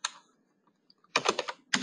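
Typing on a computer keyboard, with a short burst of keystrokes, a quiet pause, then two dense clusters of rapid clicks, close and crisp with no voices.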